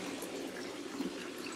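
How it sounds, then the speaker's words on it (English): A small courtyard water feature trickles softly, a faint, steady run of water with a gentle low burble, heard quietly and alone. "They did the little water feature here."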